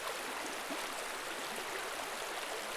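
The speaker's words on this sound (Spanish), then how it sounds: "como el ruido de un río" A river flowing through a tropical forest in Costa Rica, a steady broadband rushing and babbling of water, close and constant with no other sounds or voices.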